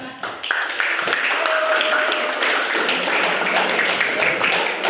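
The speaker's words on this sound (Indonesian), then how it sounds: "tepuk tangan nak" Students in a classroom clap together after a presentation, a dense, steady patter of many hands filling the room for several seconds.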